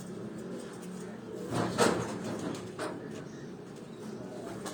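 Lakha pigeons cooing, with soft, low coos that swell briefly in the middle and again later, mixed with faint background voices.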